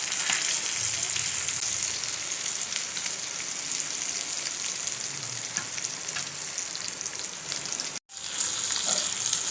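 Mackerel fish frying in a pan, giving a steady, loud, dense sizzle with crackling throughout and a brief dropout near the end, with no talking.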